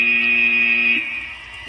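A loud, steady electronic end-of-match buzzer blares for about a second at a VEX IQ robotics championship final, then cuts off, leaving a quieter hum of background noise.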